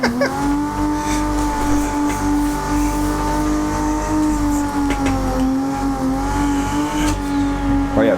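A car engine in Assetto Corsa drones at a steady high pitch, held against the rev limiter with slight dips and small stutters, loud and continuous.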